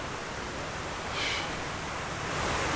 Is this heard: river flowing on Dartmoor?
yes